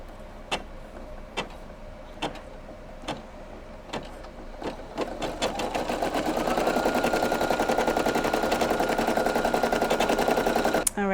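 A Brother PE800 embroidery machine stitching a vinyl applique starts with a few spaced mechanical clicks, then settles into a steady, rapid, rhythmic stitching chatter, loud and close, with no talk.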